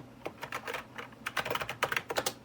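Keys clatter on a computer keyboard in quick, uneven bursts of close, crisp clicks, typing a command at a Windows 95 command prompt running in a virtual machine.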